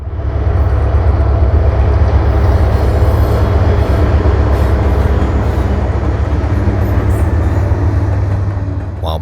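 An SD40-3 diesel locomotive leads a train on a short line, giving a loud, steady, close rumble of engine and rolling wheels with a deep low drone held throughout, no talking.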